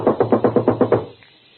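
Knocking on a door in a 1945 radio drama, with six firm, evenly spaced raps in quick succession, close and loud, followed by quiet; no voices over the knocks.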